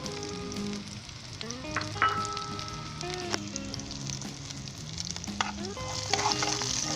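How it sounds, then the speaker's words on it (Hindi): Sliced onions fry to light golden brown in a pan with salt and cumin, a steady close sizzle and crackle with occasional stirring scrapes, no talking. "एक मिनट के लिए मज़ीद फ्राई करेंगे हम इसे।"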